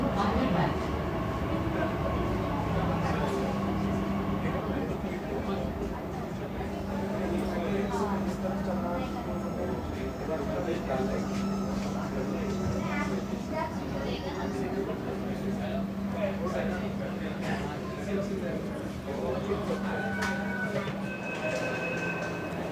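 A Pune Metro train rumbles at an interchange station, with a steady hum, low whine and clattering wheels, while people talk in the background.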